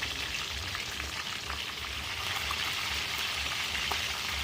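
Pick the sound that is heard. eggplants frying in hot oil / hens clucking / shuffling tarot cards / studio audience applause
eggplants frying in hot oil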